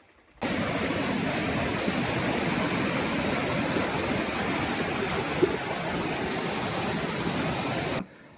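A steady, dense roar of rushing water from a waterfall, loud and unbroken, starting abruptly and cutting off near the end.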